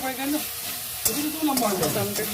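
Tomatoes sauté in a hot pan, sizzling steadily as a spoon stirs and scrapes them, close up, with no voices.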